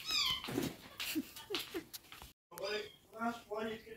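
Several cats meowing at close range in a home in the Philippines, a string of short, rising meows followed by a longer drawn-out wail after a brief pause, with a person talking over them.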